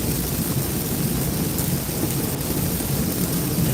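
Heavy rain pounding steadily during a storm chase in Louisiana, with thunder rumbling underneath; a dense, constant wash of sound with no voices.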